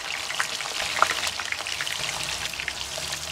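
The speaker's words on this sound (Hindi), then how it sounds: "अब मैंने ऑयल गरम कर लिया, तो इसे फ्राई करते हैं।" Fish for fish karahi fries in hot oil, giving a steady, close crackle and spatter with scattered sharper pops and no talking.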